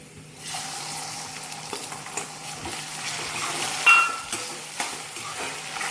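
Finely chopped tomatoes fry in oil in a kadai, a steady close sizzle with occasional clinks and stirring knocks, and no talking.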